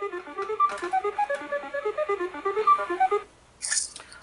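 Game show board shuffle effect on Tic-Tac-Dough: a rapid run of bright electronic ticking blips for about three seconds, ending with a short hissy flourish.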